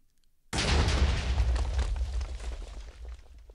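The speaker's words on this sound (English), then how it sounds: "That was a bigger explosion than I thought." An explosion from the Fishbones rocket launcher, a mod added to Minecraft: a sudden loud boom that holds as a sustained roaring, rumbling blast for about three seconds before slowly easing off.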